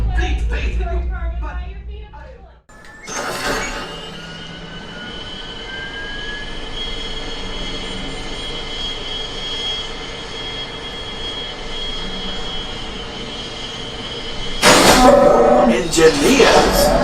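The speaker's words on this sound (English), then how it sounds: "Pilots, line up behind the train." A train roars past on the Millennium Falcon: Smugglers Run ride game, a loud continuous rumble with a long metallic squeal and a louder burst near the end, while voices talk over it.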